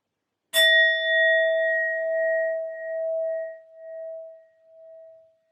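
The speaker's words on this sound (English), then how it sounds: "I'll be using my sound bowl to clear and set the energy" A sound bowl is struck once and rings on, its clear sustained tone slowly fading and pulsing over several seconds, alone and close.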